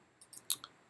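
Several quiet, sharp clicks from a computer mouse in animation software, four brief taps spaced irregularly across under a second, close and alone with no talking.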